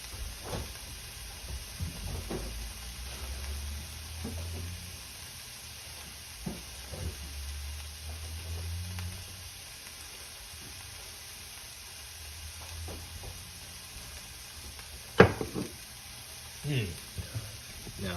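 Ginger and onion fry quietly in a pan for a Chinese-style noodle soup, giving a soft, steady sizzle with a few sharp utensil clatters near the end while a person talks over it.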